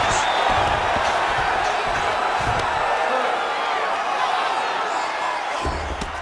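Crowd noise from a UFC 5 fight simulation on PS5, a dense steady arena roar with cheering swells throughout, loud and continuous.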